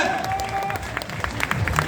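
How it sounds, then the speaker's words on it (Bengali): A seated audience at a business gathering clapping for star agents, a short dense patter of many hands at close-to-mid distance, with a voice audible underneath. "জোরে হাততালি হবে স্টার এজেন্ট রুবিদের জন্য, জোরে হাততালি হবে, জোরে হবে"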